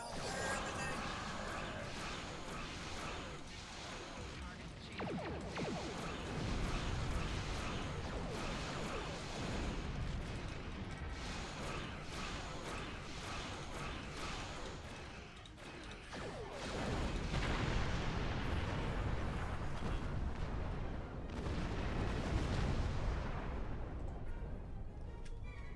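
Starship weapons in Star Trek Online fire in a relentless barrage, dense crashing blasts and impacts piling over one another for nearly half a minute, loud and continuous with brief lulls and renewed surges.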